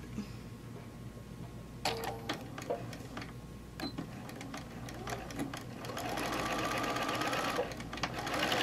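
A sewing machine stitches a seam on quilt fabric, starting with a few clicks and short bursts, then running in a steady, faint whir near the end.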